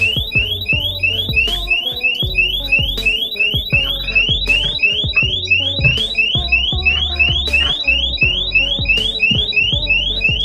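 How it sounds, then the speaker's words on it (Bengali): A loud electronic alarm rings continuously in rapid repeating beeps, close and insistent, with some clattering underneath. "তখনই বেশ জোরে জোরে অ্যালার্ম বাজাতে বাসে শুরু করে"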